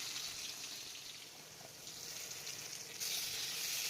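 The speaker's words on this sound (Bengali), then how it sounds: "চিংড়িটা আলুটা ভেজে নিচ্ছি।" Prawns and potatoes fry in a pan for a pilau-style dish, giving a faint, steady sizzle and hiss that swells slightly toward the end, with no talking.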